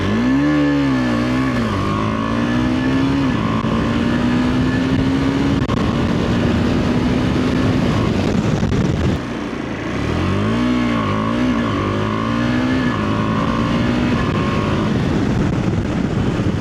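A KTM ADV 390 motorcycle ridden hard, its engine note climbing through gears in rising revving sweeps, a brief lull near the middle, then another run of loud acceleration, close and constant.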